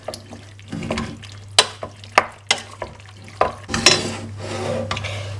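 Pasta is folded into sauce with a utensil, giving a series of sharp scrapes and knocks against the pot, wet squelching between them and a faint steady hum underneath.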